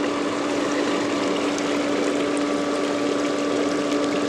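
Pool sand filter pump running in backwash mode, a loud steady motor hum with constant rushing water, close and unbroken.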